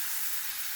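Chicken breast sizzles steadily in a frying pan for piccata, a continuous bright hiss that stays close and even with no talking.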